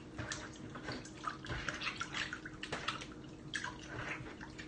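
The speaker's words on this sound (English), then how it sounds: "we're just gonna move our hand around in there with the water, with the chicken" A hand swishing raw chicken around in a bowl of water during meal prep, a steady close sloshing and splashing that continues throughout.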